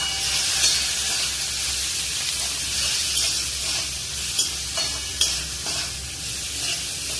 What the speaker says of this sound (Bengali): এবার নাড়াচ্ছে অনেকক্ষণ ধরে, এটাকে এবার নাড়াতে হবে।